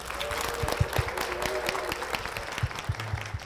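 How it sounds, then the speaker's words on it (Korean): Church congregation applause with scattered sharp claps blending into a steady patter, a crowd clapping together for a few seconds. "박수로 모시겠습니다."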